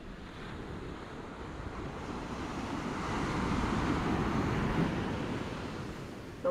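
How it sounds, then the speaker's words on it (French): Surf rolls in with a swelling rush of breaking water, mixed with gusty wind buffeting the microphone, no voices. "C'est une belle vague qui arrive."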